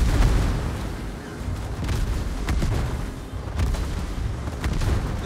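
Battleship Vermont's main guns boom in World of Warships on the map The Atlantic, heavy low-end blasts and rumbling impacts rolling continuously across a dense battle soundscape with no talk.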